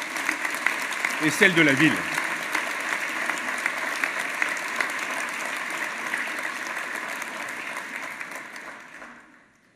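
Audience applause for the state and city police forces at a mayor's New Year address, sustained dense clapping that begins under a brief spoken line and fades out at the end.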